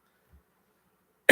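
A single harsh cough bursts out loud and close at the very end, following a faint throat sound and near silence.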